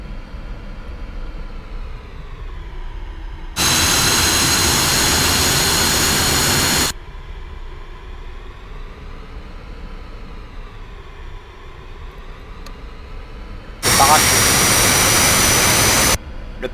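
A Northrop F-5E Tiger's jet engine hums steadily in a video game, with two bursts of loud, broadband roar where the thrust surges before dropping back to the idle whine.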